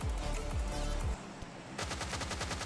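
Rapid automatic gunfire in PUBG Mobile Lite, a rush-style squad match, with loud bursts of shots, then a brief lull and a fast rattling volley near the end.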